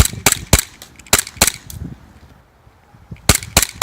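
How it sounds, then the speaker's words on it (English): A green gas airsoft Glock 17 pistol fires a quick series of sharp, loud cracks: a burst of five or six shots, a pause, then three more close together. "I'll put some footage right here of shooting at green gas."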